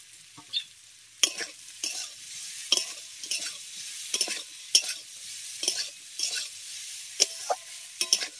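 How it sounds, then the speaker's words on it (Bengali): Squeezed, soaked soybean chunks frying alongside pointed gourd, with a soft sizzle beneath a regular series of sharp spatula scrapes and taps against the pan, close and unaccompanied. "একই সাথেই আমি সয়াবিনটাকেও এখানে ভেজে নেব।"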